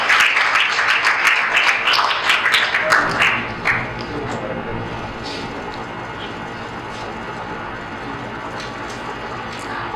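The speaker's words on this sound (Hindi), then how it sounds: "आपकी भरपूर तालियों में।" Audience at a school annual result and position holders function claps for a prize winner, a burst of scattered, fairly close hand claps that thins out after a few seconds, leaving quieter room tone with a few stray claps.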